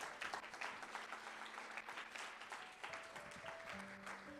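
Congregation applause during a church service, a continuous dense roll of many hands clapping, fairly faint and distant, with sustained organ-like tones entering toward the end.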